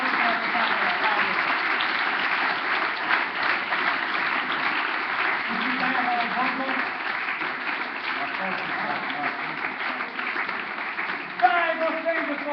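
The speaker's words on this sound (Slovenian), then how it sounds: "Hvala lepa, lep aplavz" Steady, dense applause from an audience in a hall at a local sports awards ceremony, sustained throughout at an even level, with a few louder individual claps and faint voices mixed in.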